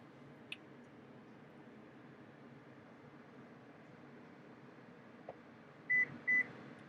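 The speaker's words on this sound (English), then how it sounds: "And again, just hold until you hear the beeps." The power third-row seat of a Lexus LX 600 gives two short electronic beeps at the end of its fold, heard over a steady low hum inside the vehicle.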